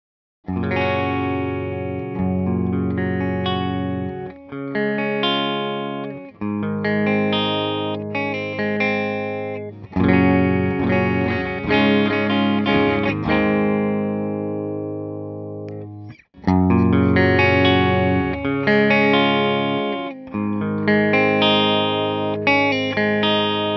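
A clean electric guitar plays chords and melodic lines with a smooth, warm amp tone, steady and close, with brief pauses between phrases.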